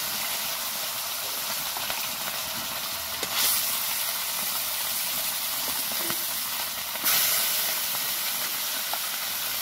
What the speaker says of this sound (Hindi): माछरे चुली रे माछरा भाजी बहुत बढ़िया लगे।